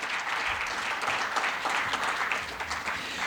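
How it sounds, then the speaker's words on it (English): Audience at a chemical industry logistics conference in India applauds a team, an even, continuous wash of clapping throughout at moderate distance, with no voices over it. "I would request all the audience to clap for Sharath and ChemLog team"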